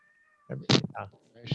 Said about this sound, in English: We have one cat that's mewing